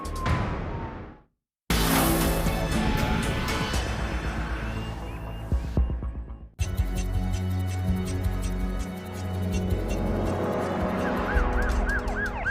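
Police car siren wailing loudly and continuously during a high-speed pursuit of a Porsche 4x4, with engine roar and rushing road noise beneath, briefly cut off before resuming.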